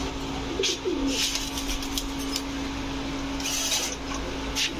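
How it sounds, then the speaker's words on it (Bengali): Maxi racer pigeons, a male and female pair, coo softly, near and low, over a constant hum, with a few brief bright sounds of fluttering or movement. "এটা হচ্ছে নর মাক্সি রেসার এটা হচ্ছে আপনার মাদি কবুতর ফুললি রানিং একটা পেয়ার"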